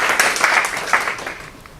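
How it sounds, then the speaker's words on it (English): Audience applause at a storytelling and branding presentation, close and fairly loud; a burst of clapping with distinct individual claps that gradually thins and fades near the end. "Let's give Amy a round of applause, please."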